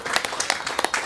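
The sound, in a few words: audience round of applause for guests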